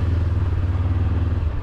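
A motorcycle passes close through city traffic, its engine a steady, loud low-pitched drone that holds throughout the short moment, with no talking.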